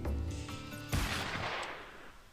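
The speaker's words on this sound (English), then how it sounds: "I sort of get the feeling I heard a gunshot just before, too." A single sharp gunshot cracks in the video game Crystal Ortha, cutting through a sustained musical tone and leaving a brief decaying echo, with no voices.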